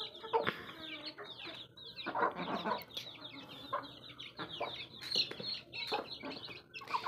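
Several chickens clucking and squawking close by, with a rooster's calls mixed in among busy, overlapping bird chatter.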